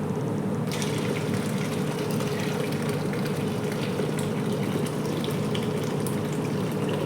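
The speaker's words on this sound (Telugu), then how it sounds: "మళ్ళీ ఇంకా వాటర్ వేస్తున్నానండి సరిపోదని" A steady, gushing pour of water into a pot, continuous and fairly loud from start to finish, with no talking.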